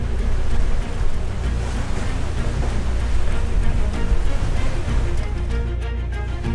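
A sailboat runs at about ten knots through a 20-knot wind and waves on an ocean crossing, giving a steady loud rush of wind and water with low rumbling hull noise throughout, and no voices.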